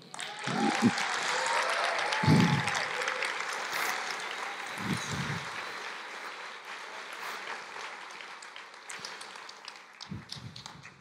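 Church congregation clapping during a sermon, a spread-out patter of many hands that swells early and then gradually thins, with a speaker's voice breaking through at intervals.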